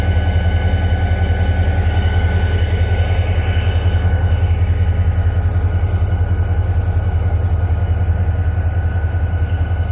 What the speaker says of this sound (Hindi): ये आपको कंटेनर ट्रेन नज़र आ रही है।